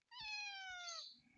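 A single drawn-out cat meow rising then gently falling, close and clear, lasting about a second, with a faint low thump before and a soft rustle after; no talking.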